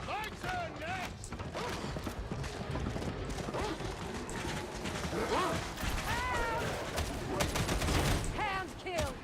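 Gunfire in the video game Darktide plays as a busy barrage of shots mixed with mechanical clatter and impacts, with voices talking over the fighting throughout.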